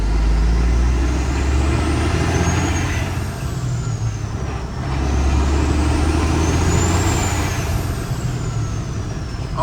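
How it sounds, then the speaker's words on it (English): A truck engine drones heavily while its turbo whistles in two rising and falling sweeps, loud and close with no talk. "You can hear the turbo spooling now."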